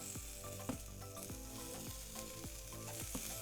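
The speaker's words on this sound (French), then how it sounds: "on fait dorer nos petites tranchettes de saucisses" Small sausage slices frying on a hot barbecue plate give a continuous close sizzle, with repeated scraping and stirring strokes roughly every half second over the crackle.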